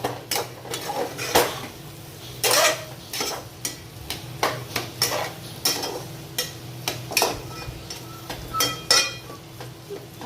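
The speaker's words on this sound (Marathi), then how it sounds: "आता आपण हे परत एकदा मिक्स करून घेऊया" A spoon stirs sheera (semolina pudding) with melting sugar in a pan, giving repeated scraping and knocking strokes against the metal over a faint low sizzle, close and moderately loud.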